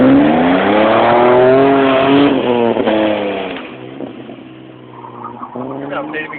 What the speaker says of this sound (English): did you hear that car?